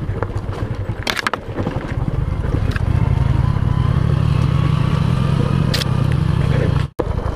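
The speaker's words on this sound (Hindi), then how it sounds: "मैं खड़े होके बाइक चला रहा हूँ पूरी।" A motorcycle ridden with the rider standing on the pegs while descending a hill slope near Pimpri-Chinchwad, coasting on engine braking with no throttle, gives a steady low engine drone buffeted by heavy wind noise and cuts off abruptly near the end.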